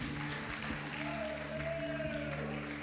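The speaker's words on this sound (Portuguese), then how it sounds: "Aplauda o Senhor." A Sunday church congregation applauding, a soft steady patter of many hands at moderate distance, with a sustained organ or keyboard chord underneath.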